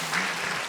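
A congregation gives a brief, soft round of clapping during a Sunday church service, heard as a quiet, even patter of hands that lasts under a second.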